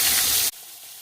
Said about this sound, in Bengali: সর্ষের তেলটা ভালো করে গরম হয়ে গেলে ইলিশ মাছের মাথা দুটো এর মধ্যে দিয়ে দিলাম। আমি একটা একটা করেই ভাজছি।